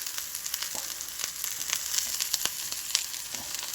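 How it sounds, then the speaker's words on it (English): Mushrooms frying in a pan during a home cooking contest between brothers, with a steady dense sizzle and scattered pops and crackles throughout, no talking. "Now we're gonna throw the mushrooms in there."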